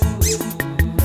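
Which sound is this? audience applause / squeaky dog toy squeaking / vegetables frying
squeaky dog toy squeaking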